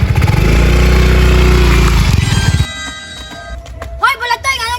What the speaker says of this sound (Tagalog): Bulantoy, pasubidado mong motor dara